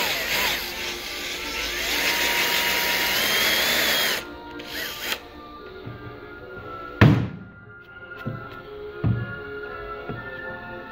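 A power drill bores a hole with a loud, steady whirring that runs for about four seconds, then stops, followed by scattered thunks and knocks.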